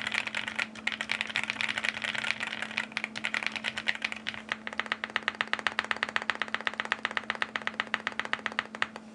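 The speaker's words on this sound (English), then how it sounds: "so far, this is a very nice typing experience" Steady keystrokes on an OwLabs Mr. Suit R2 mechanical keyboard, a dense run of clicky taps that quickens into rapid, even typing, close and alone over a faint constant hum.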